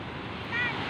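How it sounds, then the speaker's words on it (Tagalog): Steady wash of surf rolling against the shore, broad and continuous, with a gusty wind rush over it. "Masarap pakinggan ng tunog ng alon, no? Dito sa tabing dagat."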